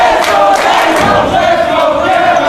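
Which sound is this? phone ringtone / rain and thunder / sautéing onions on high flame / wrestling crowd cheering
wrestling crowd cheering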